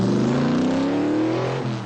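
A muscle car engine roars loudly and close, its pitch climbing steadily in a single revving pull before easing off near the end; no distinct tire screech stands out, and no one speaks.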